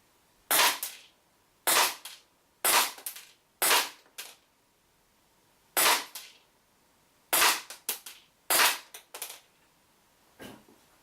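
A WE Colt 25 gas blowback micro airsoft pistol fires about a dozen sharp, loud cracks at a 10-meter range, in spaced single shots and a few quick pairs with short mechanical rattles after some shots.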